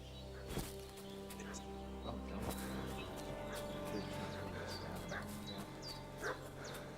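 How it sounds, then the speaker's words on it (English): A dog in Kingdom Come Deliverance II barks and whimpers in repeated short bursts, with voices talking over a busy game soundscape that includes faint bird calls. "What's that dog making such a fuss about?"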